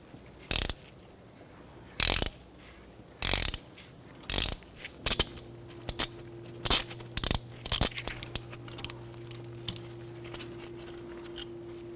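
A ratchet and socket work a rusted bolt on a 2006–2014 Honda Ridgeline during a rear ABS wheel speed sensor job, giving about a dozen short, sharp clicking bursts roughly a second apart, close by, over a faint steady hum.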